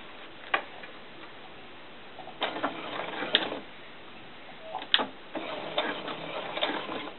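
A sewing machine runs a straight stitch across a doll skirt in short bursts, a quiet rapid ticking that starts and stops several times, with sharper clicks between runs.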